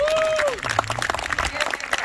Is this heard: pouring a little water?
no